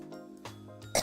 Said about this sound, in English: I'm sorry for that cough.